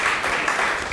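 A church congregation applauds in a brief, dense wash of many hands clapping together, steady and fairly loud, with no clear speech over it.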